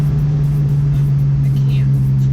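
A manual-transmission car engine holding a strong, steady hum as it revs, loud and continuous from inside the cabin, with no break across the stretch.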